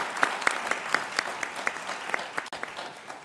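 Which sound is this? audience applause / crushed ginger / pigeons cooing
audience applause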